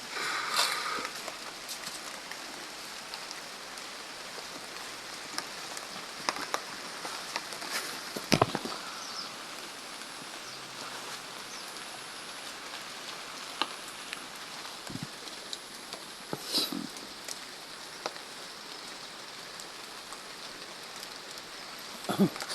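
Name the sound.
heavy rain falling in the forest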